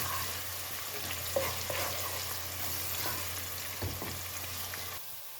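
Sliced onion fries over a medium flame in hot oil and ghee for maash dal, a soft, steady sizzle with occasional spoon stirs and light clinks, fairly quiet and without talk.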